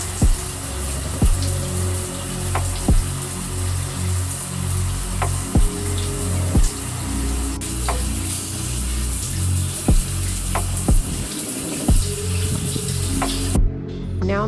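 A shower runs steadily during a hair wash routine for damaged natural hair. The water makes a continuous hissing spray, broken by regular soft knocks and taps, with no one talking.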